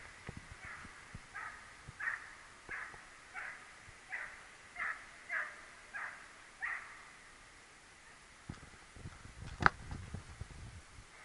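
A dog barks repeatedly in a steady series of about ten barks at a distance, followed by rustling and a few closer knocks outdoors.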